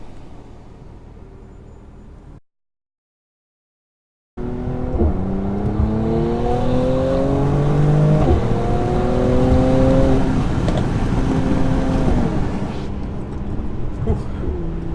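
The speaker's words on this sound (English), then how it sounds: "when these lights change, I'll accelerate" A 400bhp 2019 Mercedes-AMG C43 revs up hard from a traffic light and climbs through the gears after a brief silence, loud and close, with roaring exhaust, pops and bangs, and wind noise.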